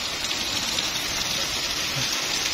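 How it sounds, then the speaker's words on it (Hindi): Very heavy rain falls at full force under dark clouds, a thick unbroken roar of water that holds steady throughout the short stretch with no voices. "कितनी ज़्यादा तेज़ बारिश हो रही है"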